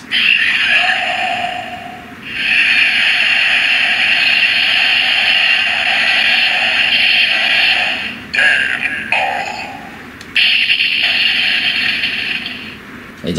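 Kamen Rider Den-O DX Another Watch toy playing its transformation sound, a loud electronic sequence of sustained synthesized tones broken by a few short gaps and abrupt changes over about thirteen seconds, with no talking.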